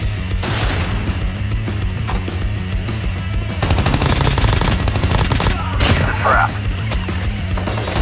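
Gunfire in the mobile video game Call of Duty Mobile: rapid automatic bursts and single shots crack loudly over several seconds, with some faint speech underneath.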